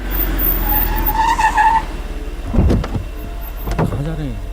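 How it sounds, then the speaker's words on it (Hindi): A car skids with a drawn-out tire squeal and comes to a stop, loud and close. Someone shouts to stop the vehicle, and other voices and a bump follow. "रोको रोको, गाड़ी रोको।"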